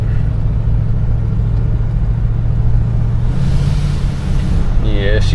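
A 1974 Cadillac Eldorado driving, a loud steady low engine and road rumble with wind noise, smooth and unbroken, ending with a brief chirping sound.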